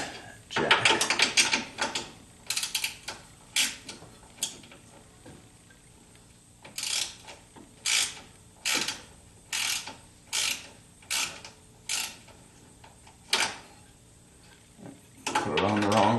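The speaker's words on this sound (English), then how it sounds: "Then I'll move the jack." A car jack under a 1976 Corvette restomod is moved and ratcheted, giving a series of sharp metallic clicking bursts in an uneven rhythm, close and clear, separated by short quiet pauses.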